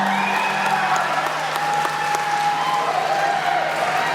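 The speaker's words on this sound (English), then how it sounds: "One more big round of applause for them." A concert audience applauds school bands after a spring concert performance. The clapping is a steady, even wash, and a few sustained tones linger underneath.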